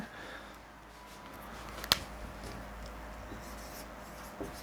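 Faint pen or marker scratching as equations are written out, with a sharp tap near the middle and a softer one near the end, over low room hiss.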